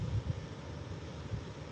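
Wind gusts buffet the microphone outdoors in a garden on a cool evening, a faint low rumble with soft bursts and no talking.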